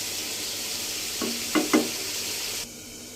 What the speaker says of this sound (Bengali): আর এই যে আলুটাও কষানো শেষ